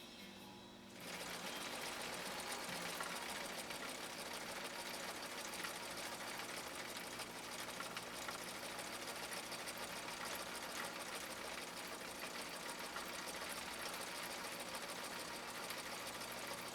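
Husqvarna Viking 6010 sewing machine, an older machine that had been dropped on concrete, stitching steadily in one continuous, even whir with rapid needle chatter, starting after a second of quiet and running unbroken without talk.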